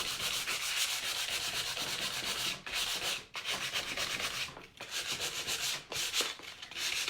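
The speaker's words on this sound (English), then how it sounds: "I am sanding a lot off of my letters" Wooden sign letters being sanded by hand to look aged, a steady close scratchy rubbing with a few brief pauses between strokes.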